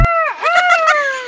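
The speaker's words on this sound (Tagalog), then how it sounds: "Ang manok natin." A fighting rooster gives a short, loud, close crowing call with a wavering tone, preceded by a sharp knock.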